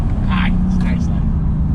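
A modified Audi B7 RS4 engine holds a loud, deep, steady drone at high revs, heard close up beneath people talking.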